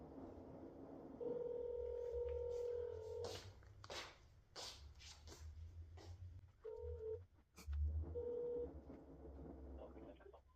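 Telephone dialing tones sound as a call is placed: several short, evenly spaced beeps and keypress tones, quiet and close, broken by clicks and handling noise.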